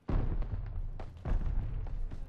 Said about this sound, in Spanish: Tiro una granada.